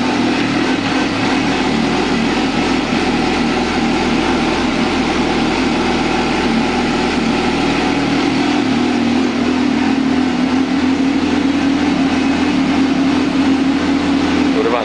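2005 Suzuki GSX-R750 sport motorcycle with a broken exhaust idling steadily nearby, a loud continuous engine drone throughout with little change in pitch.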